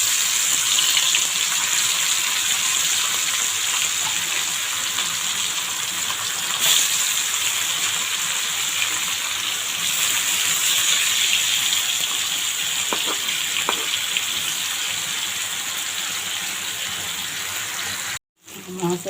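Turmeric-, salt- and chilli-rubbed hilsa fish pieces frying in hot oil in a kadai, giving a steady, loud, hissing sizzle that runs unbroken for most of the stretch before briefly cutting out near the end.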